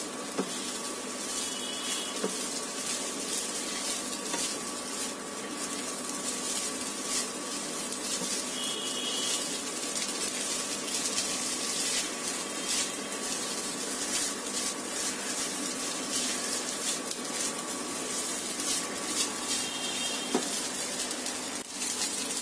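Cooked rice, which can be made from chinigura pulao rice, frying in a pan: a soft, steady sizzling hiss runs evenly through the whole stretch with no talking.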